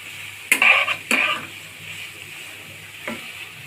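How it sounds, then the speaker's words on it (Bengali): Cauliflower mash is stirred and sizzles in a pan in a few short bursts, then quiet with a faint scrape near the end. "এটা আমি সুন্দর করে ভাজা ভাজা করব"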